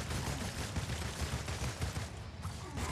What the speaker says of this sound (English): Shooting him right in the dome